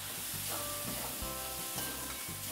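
Spices such as masala powder, coriander-cumin powder and garlic-onion chutney stirred together in a pan for a dry potato dish, soft sizzling with rhythmic stirring scrapes, quiet and without talk.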